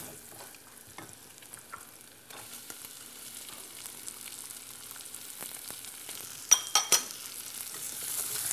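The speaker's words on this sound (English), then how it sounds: "We're at the point where we're going to add the onions." Onions sizzle in rendered hot dog fat in a pan, a soft steady frying hiss broken by a few stirring scrapes and clinks, growing louder toward the end.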